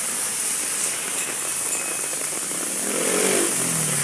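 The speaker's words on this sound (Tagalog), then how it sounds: "Grabe oh, lakas ng ulan" Heavy rain pouring down on a street in Santa Ana, Manila, a dense, loud, unbroken hiss that fills the scene, with a faint engine rumble rising beneath it near the end.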